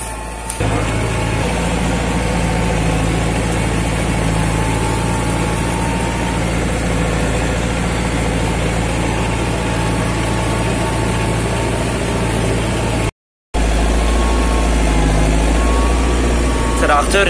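A TL 100 tractor engine runs in a steady, heavy drone while pulling a deep-digging plough, continuous and close, with someone talking over it.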